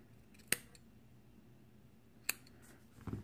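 Two crisp, isolated snips of scissors trimming cotton wick for the coil of an Advken Ohmega V2 RTA, close and fairly quiet, spaced about two seconds apart in a calm room.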